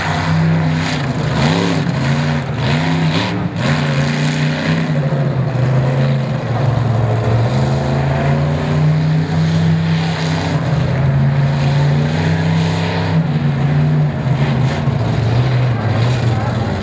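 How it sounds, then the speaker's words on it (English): At a 4-Wheel Jamboree Nationals event in Lima, Ohio, the Raminator Ram monster truck roars loudly and continuously, its engine revving and surging as it spins donuts in mud, with faint voices in the background. "He's definitely using the loud pedal in that Ram, pulling off some Mark Hall donuts, even in the slop"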